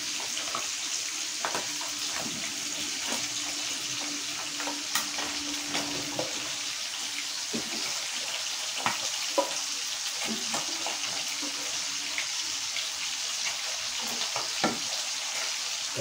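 Malunggay leaves fry and get stirred in a pan, a soft continuous sizzle broken by repeated light scraping and clinking of the utensil against the pan, close and moderately quiet.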